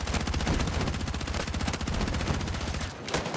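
Rapid automatic gunfire from a video game, dense and loud bursts firing almost continuously, with a brief dip near the end before another shot.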